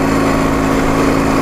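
A motorcycle engine revs at full throttle in fourth gear, pulling steadily without bogging down, a loud, constant, buzzing drone held throughout.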